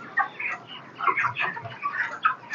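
Broiler chickens cluck and chatter inside a poultry house, a dense continuous flock murmur with overlapping clucks and soft calls, close and steady with no talk.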